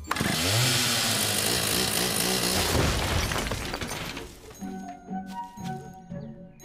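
A loud cartoon chainsaw roars and grinds through a wooden door with crunching, splintering noise, then drops to scattered knocks and rattling debris.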